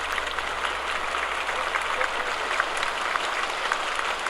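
Sustained applause from delegates filling a 1945 UN plenary session hall, a steady dense clatter of many hands heard from a distance over an old radio broadcast, with no voices over it.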